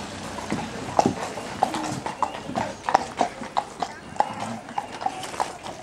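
Horses' hooves clip-clopping at a drag hunt event in Ruurlo, a steady series of distinct hoof strikes at moderate distance, with faint background murmur.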